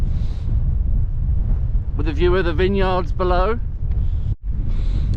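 Strong wind on the open South Downs near Ditchling Beacon buffets the microphone with a constant low roar and rumble, while someone speaks briefly partway through.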